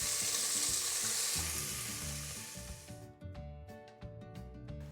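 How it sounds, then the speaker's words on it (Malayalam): Sliced onions, green chilies and ginger garlic paste sauté in a hot pan for a potato chickpea curry. Loud, close sizzling and frying comes with rhythmic stirring and scraping of a spoon against the pan. "1 മിനിറ്റ് ഒന്ന് വഴറ്റി കൊടുക്കാം."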